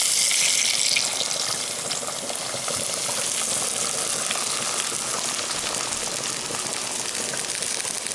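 About a cup of water poured into a hot pan of Italian sausage, a brief splash followed by loud bubbling and hissing as the liquid boils around the meat, close and steady.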